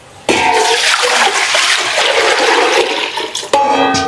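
Sliced onions hit hot ghee in a pan for Thrissur biryani, setting off a sudden loud, steady sizzle that holds for several seconds before a second burst of frying.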